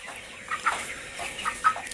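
A chicken kept in a coop gives a few short, soft clucks spread across two seconds over a quiet background.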